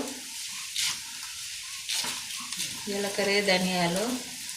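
Cumin and coriander seeds fry in hot oil with a close, crackling sizzle and some stirring, while a person talks over it.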